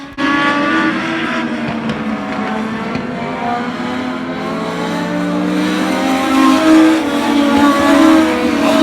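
Race cars roaring around Oyster Bed Speedway, engines droning loudly and steadily with rising revs as the pack holds close, no voices over the sustained mechanical howl.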